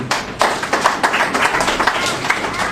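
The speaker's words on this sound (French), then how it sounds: "Je vous demande d'applaudir très fort." An audience applauds loudly at a French activity report event, a brisk, dense patter of clapping hands throughout.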